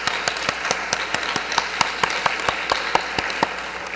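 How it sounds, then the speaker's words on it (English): Audience applause at a university MFA poetry reading, a dense room of clapping hands with individual sharp claps standing out, steady and fairly loud throughout with no talking. "I'd like to give her a round of applause."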